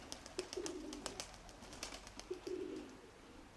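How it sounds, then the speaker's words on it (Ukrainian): Soft pigeon coos repeat twice amid scattered sharp clicks and light outdoor noise, fairly faint and slightly distant, as a hawk chases pigeons in flight. "Погнався за голубом знову."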